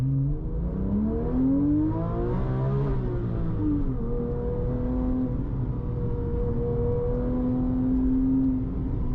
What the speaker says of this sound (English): It's hard to rival the sound that this Metzger engine makes.